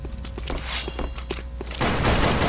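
Gunfire in the online shooter Sudden Attack: a quick run of sharp shots at a steady rhythm, then a louder, denser burst of fire near the end, with no talking.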